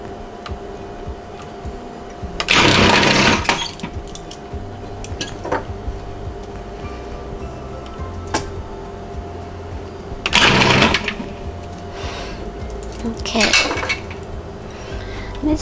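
Parts of a Cuisinart Prep 7 food processor, including its chopping and dough blades, are handled in a kitchen. Intermittent clattering bursts of plastic and metal pieces knocking together come in three main clusters, with quieter clicks and low background noise between them.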